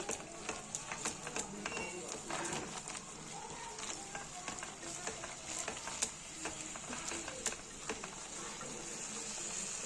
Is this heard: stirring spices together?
yes